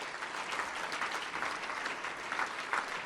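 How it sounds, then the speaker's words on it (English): Warm applause from an audience at a university academic achievers' awards event, a steady crowd of clapping hands with slight swells in intensity, moderately close, with no voices over it. "And I think we should give them a round of applause, ladies and gentlemen."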